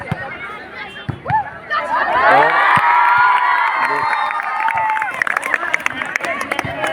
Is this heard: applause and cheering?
yes